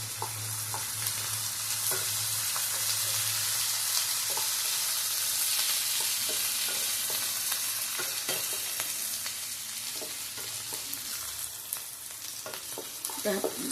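Mushrooms for a chilli mushroom dish sizzle and fry steadily in a hot pan for the whole stretch. The hiss is continuous and close, with frequent small crackles and pops and occasional stirring clatter, and no talking.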